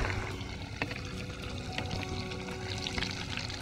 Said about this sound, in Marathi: थोडे ब्राउनिश होईपर्यंत आपण तळून घेणार आहोत ना हे?